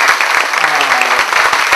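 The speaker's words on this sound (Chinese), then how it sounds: "我们给所有的学校所有的同学在掌声给他恭喜一下" Brisk, loud clapping from a crowd at a county award ceremony honouring creative students, close by and continuous for the short stretch.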